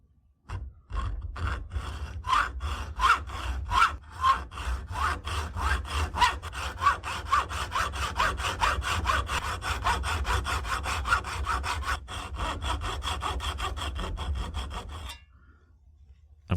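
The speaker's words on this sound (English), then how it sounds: "I'm ending the cut with the blade just above the original scribe line" A hand saw blade cuts a part for a loading gate of a Belgian pinfire revolver, making a close, steady rhythmic rasp of quick back-and-forth strokes that continues for about fourteen seconds before stopping abruptly.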